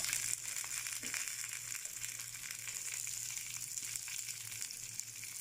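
Sliced onions sizzling in hot oil with ginger and garlic for a tuna dish, a steady bright hiss of frying that runs continuously, with a low hum beneath and faint occasional stirring scrapes.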